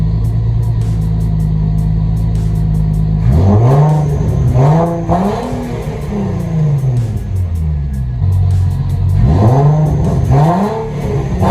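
A Nissan G35 with a rear-mount turbo setup revs loudly up close: a steady idle drone, then repeated sharp rising and falling engine sweeps, with a second burst of revving near the end.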